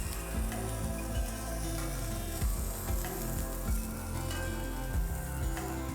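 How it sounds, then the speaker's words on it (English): Lobsters in the shell with butter sizzle and spit under a hot broiler, a steady close crackle of frying juices with occasional louder pops and bursts, and no voices. "Lobsters are cooking."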